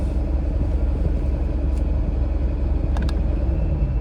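A 2021 Jaguar F-Type R idles with its top down, its exhaust held open at all times by a pulled fuse. The deep, steady rumble stays loud and close throughout and is heard alone.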